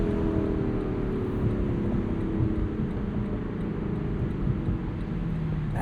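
A 2025 Lexus LC 500 convertible's V8 exhaust drones steadily at cruising speed, with a raspy low rumble reflecting off a nearby wall and a slowly falling engine note.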